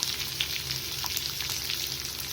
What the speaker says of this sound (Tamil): இப்போ பூண்டு நல்லா வதங்குற அளவுக்கு நம்ம கிண்டி விட்டுக்கலாம்